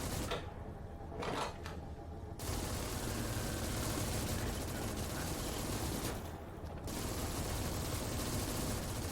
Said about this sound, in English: Machine gun's doing a much better job.